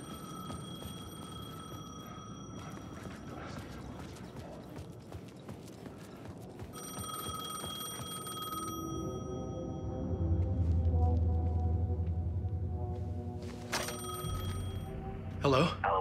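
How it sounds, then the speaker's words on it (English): A payphone ringing in the video game Alan Wake II, repeated electronic bell rings over footsteps and ambient game noise, followed by a low rumbling drone and a sharp closing clatter. "The payphone was ringing."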